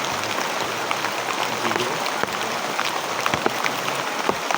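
Steady, heavy downpour roars in a continuous broadband wash, with faint scattered knocks and a murmur of voices beneath.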